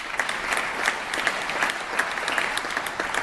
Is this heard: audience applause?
yes